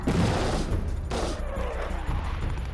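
Bursts of rapid gunfire crackle in the distance, a dense volley followed by a second burst, with a sustained rumbling echo between them.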